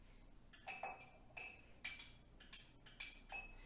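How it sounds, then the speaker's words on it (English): Chopped onion and garlic dropping into a glass mason jar give a series of light clinks and taps, with several sharp glassy knocks spaced irregularly and heard close up at low volume. "We're going to put it in our mason jar."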